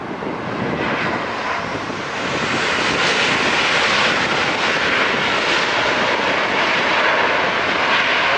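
A Southwest jet airliner lands at LAX, a loud, steady roar of engines and rushing air close by that swells after the first couple of seconds and holds strong to the end, with no voices.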